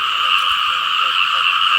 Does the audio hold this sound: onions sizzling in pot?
no